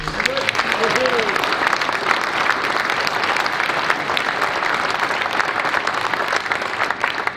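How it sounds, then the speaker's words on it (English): An audience at a congressional candidate debate applauds students, a dense, sustained roar of clapping that stays loud and even for several seconds, with a brief voice near the start. "Let's have a round of applause for our students,"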